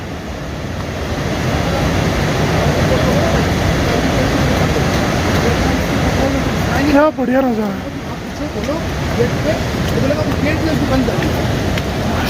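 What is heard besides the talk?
loud rushing mountain river water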